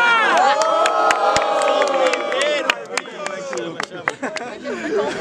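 A rap battle crowd at the final of a student battle event cheers, whistles and shouts loudly and continuously, with clapping and chatter fading into scattered calls toward the end.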